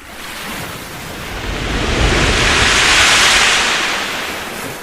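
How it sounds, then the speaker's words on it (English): A giant ocean wave approaches as a broad, loud rush of surf and wind that swells to a roaring peak midway, then eases slightly. "Look at the ocean! A giant wave is coming!"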